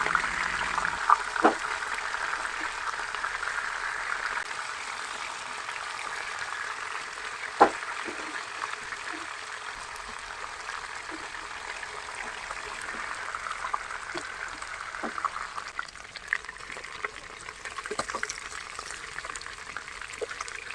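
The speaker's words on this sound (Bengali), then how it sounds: "ফ্রাইং প্যানে আমি ভেজে নিচ্ছি তো এর জন্য আমি সরিষার তেল দিয়ে ভালোভাবে তেলগুলো গরম করে নিয়েছি" Katla fish frying in hot mustard oil in a frying pan, a soft steady sizzle with occasional faint clicks and taps of handling, no talking.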